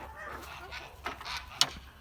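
A few faint Kholmogory geese honking beside a stream, brief scattered calls with one sharper cry near the end, heard at a distance over quiet outdoor background.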